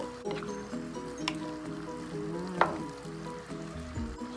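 Bok choy (pechay) frying in a pan gives a soft, continuous sizzle under louder tuneful background music, with one brief clack near the middle.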